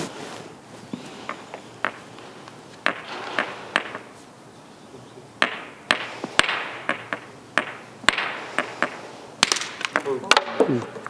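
A hammer strikes stone while stone tools are knapped at a training workshop, sharp cracking hits in irregular bursts, several close together, with low talk in the background.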